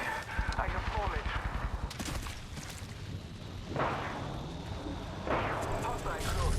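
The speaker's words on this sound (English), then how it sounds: "I am taking fire." Rapid gunfire bursts in the Apex Legends battle royale game, with dense automatic shooting early on, then further loud bursts and impacts amid game sound effects and voice lines.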